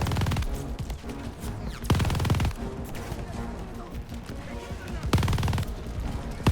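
Heavy mounted turret machine gun in Call of Duty: Vanguard fires in repeated sustained bursts, loud and close, with three dense booming stretches amid a busy background of battle noise.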